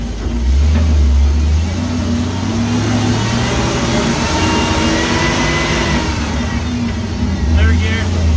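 A five-speed manual forklift engine revs and pulls in second gear, a steady loud mid-pitched drone that rises and holds close by with a slight surge near the end.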